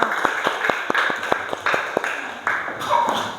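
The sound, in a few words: applause for everyone in a classroom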